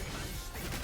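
A heavy attack smashing in Wuthering Waves combat lands as a rough, crashing burst of impact noise, with a brief dip midway before the clattering resumes, fairly quiet overall.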